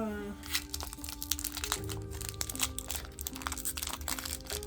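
Trading card booster pack wrapper torn open by hand: close, uneven crinkling and crackling of the foil with sharp little rips, under a faint background tone and some talk.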